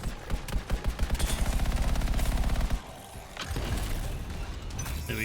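Rapid automatic gunfire from the sci-fi shooter game Anthem, a loud, steady burst of fast repeated shots lasting a few seconds, then cutting off into a quieter rumble of in-game ambience.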